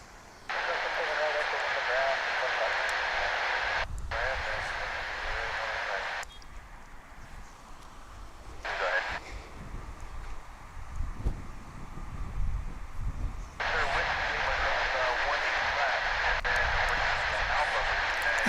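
A 13-year-old Boeing 737-900 airliner at DFW International Airport roars in a loud, steady broadband rush that cuts out briefly in places, with wind buffeting and low rumble filling the quieter gaps.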